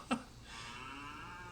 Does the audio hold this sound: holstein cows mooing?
yes